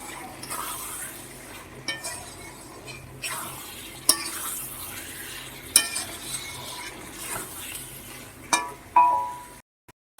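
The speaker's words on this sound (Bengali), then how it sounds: "এগুলোর সাথে মশলাটা ভালো করে মিশিয়ে আরও বেশ কিছুক্ষণ কষিয়ে নিচ্ছি" Prawns, taro and potato with spice paste stir-fried in a pan, a steady soft sizzle under repeated scraping and clinking of a spatula against the metal, irregular stirring knocks throughout, close by.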